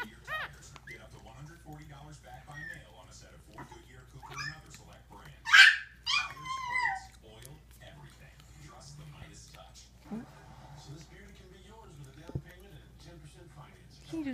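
Small Bichon Frise puppies yip, whine and whimper in scattered bursts, with one sharper bark in the middle and quiet talking underneath.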